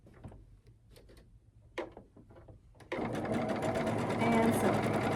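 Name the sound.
sewing machine stitching quilt block fabric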